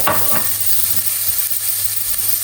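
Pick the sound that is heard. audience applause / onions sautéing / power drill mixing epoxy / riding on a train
onions sautéing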